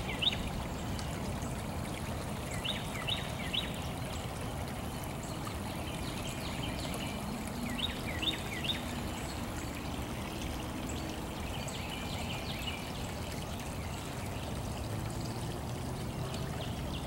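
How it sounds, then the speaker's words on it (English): Water flows steadily in a creek, a continuous soft outdoor rush and trickle heard at a moderate distance, with faint high chirps above it throughout. "It's nice to see some water flowing in the creeks"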